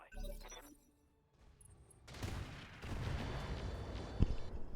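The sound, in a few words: mech firing full weapons salvo in video game Battletech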